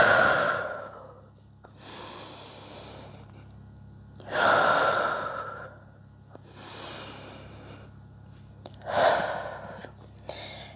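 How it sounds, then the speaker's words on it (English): Deep breaths in a yoga downward dog pose: three slow cycles of long audible inhales and forceful, sighing exhales, close and clear, with quiet pauses between. "Take a couple breaths here."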